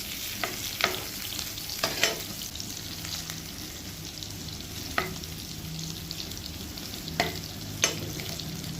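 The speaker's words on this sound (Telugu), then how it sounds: "ఒక గిన్నె పెట్టుకొని అందులో ఆయిల్ వేసుకొని ఈ కాకరకాయలను వేయించుకోవాలి" Bitter gourd pieces fry steadily in oil in a pot, a continuous soft sizzle broken by occasional sharp clinks and scrapes of a spoon against the metal, no voices.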